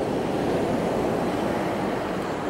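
Steady, loud roar of ocean surf breaking on a beach at Whakatane, New Zealand, heard as continuous wash with no distinct individual waves and no voices.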